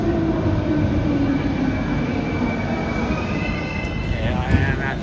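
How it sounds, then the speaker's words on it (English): Riding inside an Athens metro train, a loud continuous rumble of wheels on track with faint rising squeals of wheels and motors, heard steadily from within the carriage, with some talk under the noise. "So we're on the train now."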